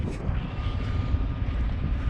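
Loaded truck rolling back and forth over class 7 stone to compact it: a continuous low engine drone and rumble close by, steady over two seconds with some wind noise.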